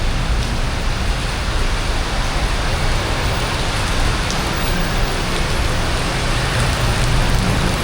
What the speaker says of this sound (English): I just got caught in a heavy rain.